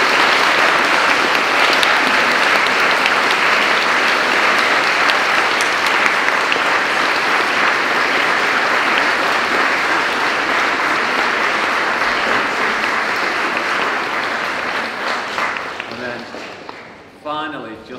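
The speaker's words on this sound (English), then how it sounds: "we can actually give them all a massive round of applause now." An audience at a church carol service gives loud, sustained applause and cheering that holds steady for most of the stretch, then thins out and fades near the end.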